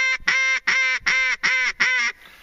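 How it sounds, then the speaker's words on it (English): A Haydel DR85 mallard duck call with a big barrel and acrylic insert, blowing five loud, close, evenly spaced quacks in a quick rhythmic series, followed by a brief pause. "Haydel DR85, hard to beat. The pure mallard sound."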